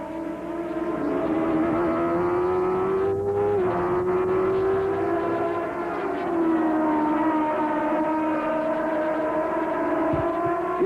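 A 1993 Indy race car engine at the Mid-Ohio Grand Prix screams loudly and continuously, its pitch sweeping up and down through gear changes, with crowd and track ambience underneath.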